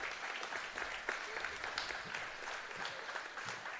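A capacity gymnasium crowd at a James Monroe versus Greater Beckley high school game applauds an injured player, a dense, continuous wash of clapping heard at a distance.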